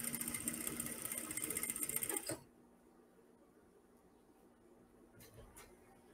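A sewing machine runs a fast, steady stitching whir for about two seconds on the first fine fold of sheer fabric, then stops, leaving faint handling sounds.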